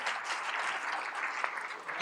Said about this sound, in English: Clap your hands if you're Arab.